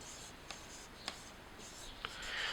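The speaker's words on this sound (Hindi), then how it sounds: "यहाँ अलग अलग ड्यूक लिख दे रहे हैं" A marker or chalk scratches across a lecture board in a few faint strokes, with small taps in between, under a steady background hiss.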